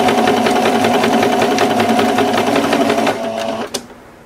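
Sewing machine running a backstitch on a fabric placemat, a steady close mechanical whir for about three seconds, then slowing and stopping with a brief click at the end, no talking.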